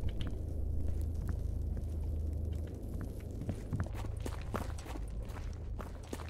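Footsteps crunch steadily in the STALKER GAMMA video game, a continuous trudge over rough ground under a dense, rumbling ambient bed with no talking.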